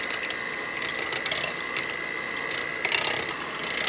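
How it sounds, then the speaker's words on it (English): An electric mixer whirs through crepe batter made with milk, egg and salt, a steady close mechanical buzz with rattling, clicking texture that grows a little louder near the end, without any talking. "I'm going to mix it with an electric mixer"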